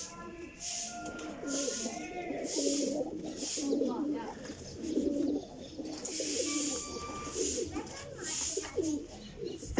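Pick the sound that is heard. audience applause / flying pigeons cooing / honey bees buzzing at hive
flying pigeons cooing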